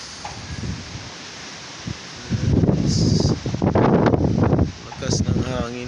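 Strong wind from Typhoon Rolly buffets the microphone and rustles loudly in heavy, surging gusts after a quieter start, with a roof seeming to lift under the force.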